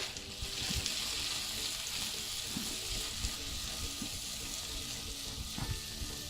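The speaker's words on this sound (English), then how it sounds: "you can still hear it sizzling" Butter and an omelette mixture sizzle steadily in a frying pan, a dense continuous hiss with a few soft knocks of the pan.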